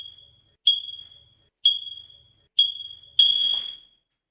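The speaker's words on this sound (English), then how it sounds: "Good thing he had that smoke alarm." A smoke alarm emits four loud, shrill electronic beeps at roughly one-second intervals, the last one longer and harsher, with silence between each chirp.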